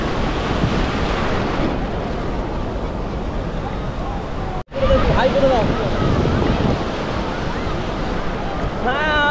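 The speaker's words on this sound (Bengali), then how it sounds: "আর ঢেউগুলো একটা ঢেউ আসছে।" Sea waves at Puri beach during high tide roll in with a continuous, loud rushing wash and heavy wind buffeting the microphone, while a crowd's voices murmur faintly underneath.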